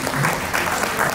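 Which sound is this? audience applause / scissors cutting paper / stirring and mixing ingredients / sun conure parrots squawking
audience applause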